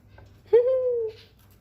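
A mother lovebird gives a single loud, drawn-out call lasting about half a second, close up, after a brief softer chirp, with faint background noise.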